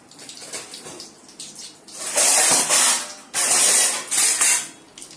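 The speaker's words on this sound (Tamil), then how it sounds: "கடுகு நல்லா பொரியுது. கடுகு பொரியுது, சத்தம் கேட்குது பாருங்க." Mustard seeds spluttering in hot oil while making a Sankara fish curry, a crackling, hissing sizzle that swells into loud, dense bursts in the second half, close by with no talk.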